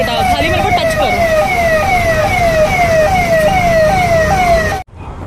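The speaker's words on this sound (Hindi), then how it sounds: "एक पुलिस की गाड़ी जा रही है, सायरन लगातार बज रहा है" A police car siren wails continuously in jammed traffic, a loud repeating falling whoop cycling steadily at close range over road rumble, then cut off abruptly at the end.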